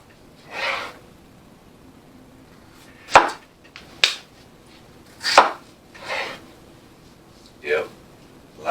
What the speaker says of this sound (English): After we get done slicing all these taters down